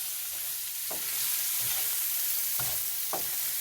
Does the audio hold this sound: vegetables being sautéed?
yes